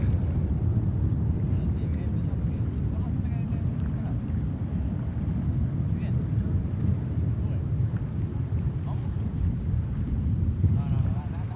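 Jet airliner, likely a Boeing 767, arriving at JFK airport amid back-to-back arrivals: a steady, broad engine roar with wind rumble that holds throughout.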